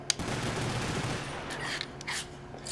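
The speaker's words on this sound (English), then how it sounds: "what Akimbo mode does is unloads both pistols just by holding down the fire weapon button" Akimbo pistols firing in rapid succession in a PS3 Ragnarok game, a dense stream of game gunfire with a steady clatter under a continuous loud background.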